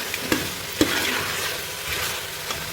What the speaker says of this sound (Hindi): तो अब हम इसको 1 मिनट के लिए और भूनेंगे अच्छे से